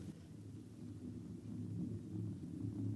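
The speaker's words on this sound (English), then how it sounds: "They're coming this way in a stampede." A low, steadily building rumble of a stampeding herd of creatures approaching in an old science-fiction radio drama, a continuous thunder-like roar swelling louder with no voices.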